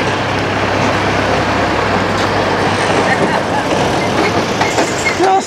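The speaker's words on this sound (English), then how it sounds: "And here comes the train back again." An electric train rumbles past close by at Sunny Beach, Bulgaria, with a steady, dense roar and faint rhythmic clatter throughout, loud and continuous.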